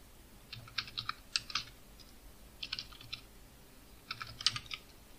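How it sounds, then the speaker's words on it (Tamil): Typing on a computer keyboard with a phonetic Tamil input setup: quiet, close key clicks in three short bursts separated by pauses, with no voices. "இப்போ நான் டங்கிலீஷில் டைப் பண்ணுறேன்"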